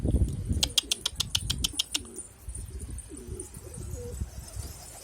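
Pigeons flap their wings in a quick burst of loud claps, followed by several soft, low coos from birds close by, with no talk.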